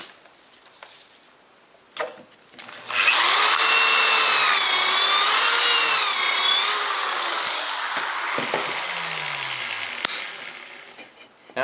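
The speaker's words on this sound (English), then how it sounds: "Now I can go ahead and drill the first pocket hole." A drill bores a pocket hole into a clamped wooden board through a Kreg K2 pocket hole jig, a loud, whining run of about six seconds that rises and falls in pitch, with a few clicks and knocks before and after.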